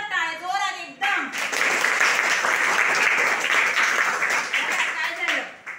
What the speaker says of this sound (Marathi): खूप जोरात टाळ्या, जोरात एकदम.